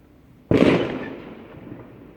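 A single loud firework burst goes off at an organised display at Hook Road Arena in Epsom, with a sharp explosive onset followed by a long crackling, echoing decay heard from the crowd at a distance.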